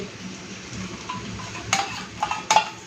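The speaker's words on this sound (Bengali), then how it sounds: "মশলা থেকে তেল ছেড়ে দিয়েছে তো এখন আমি দিয়ে দিচ্ছি এই যে দই" Yogurt goes into hot spiced oil in a pan for Bengali doi katla, giving a soft sizzle, with a few sharp clinks of a utensil against the pan near the end.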